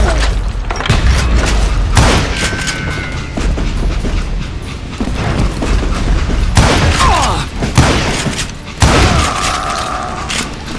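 Loud, dense gunfire from Call of Juarez: Gunslinger, with repeated booming shots and sharp impacts packed through the stretch and a few brief pauses between volleys, and a voice shouting among the shots.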